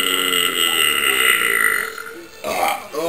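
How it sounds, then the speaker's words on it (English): A man lets out a drawn-out, loud, croaking burp, followed by a shorter, rougher burp near the end, close up. "Oh my god, I'm having a burp attack."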